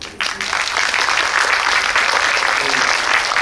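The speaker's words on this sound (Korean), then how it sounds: "우리 네 분 배우님께 박수 한번 부탁드리겠습니다" A theater audience applauds four actors of the film Boss at a special screening Q&A at COEX, giving loud, sustained clapping that starts abruptly and fills the hall without a break.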